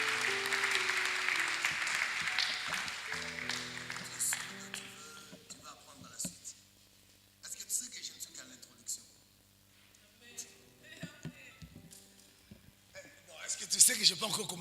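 A church congregation claps and cheers at the start, a loud burst of applause that fades into a preacher speaking, with scattered short claps and a final swell of applause near the end.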